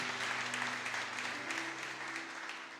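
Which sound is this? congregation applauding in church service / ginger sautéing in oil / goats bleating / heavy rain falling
congregation applauding in church service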